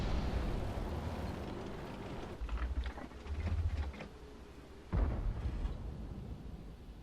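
A tank cannon fires in World of Tanks from an AMX 12t, a deep muffled boom followed by a second heavy thud, moderately loud over a low rumbling engine background with no talk.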